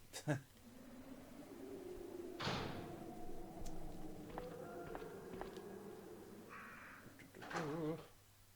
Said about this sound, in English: These crows.